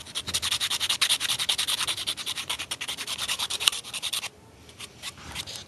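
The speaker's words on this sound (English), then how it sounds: "If you're starting on a second one on the same PVC pipe, you're gonna have to file both sides like me." A file rasps rapidly back and forth across a PVC pipe for an airsoft silencer, in quick rhythmic strokes close up, then slows to a few lighter scrapes near the end.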